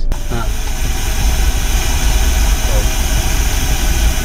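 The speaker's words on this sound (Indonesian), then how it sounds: "Ini adalah pink noise." A pink noise test track plays through a Kenwood car audio system installed in a Toyota Alphard, a loud, steady, rushing hiss. Someone speaks a single short word at the start.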